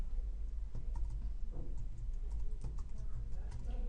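Keystrokes typing a last name on a computer keyboard, a quick run of light clicks and taps over a low steady hum, close and fairly quiet.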